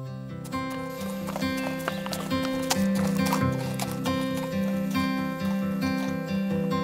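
A ridden horse moves in a steady, even rhythm of hoofbeats, recorded close up from the rider, with a melodic music track playing over it throughout.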